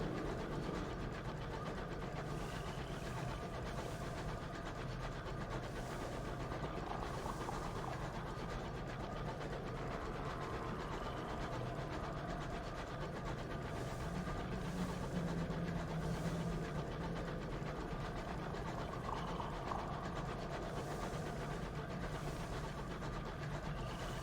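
A steady, low mechanical rumble of a train engine runs without a break in the steampunk space game Sunless Skies, a constant droning hum with no speech over it.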